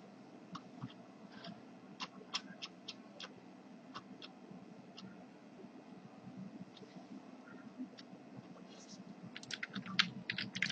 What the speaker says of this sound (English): I'm pressing Ctrl F and typing in for indoor.